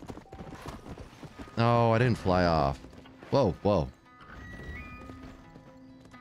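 A horse in the video game Red Dead Redemption gives two loud whinnies, a long one followed by two shorter neighs, with hoof clatter and someone talking around them.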